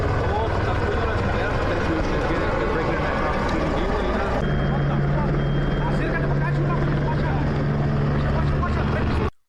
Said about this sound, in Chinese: 天上的声音是当地警局的警用直升机以及当地媒体的直升机。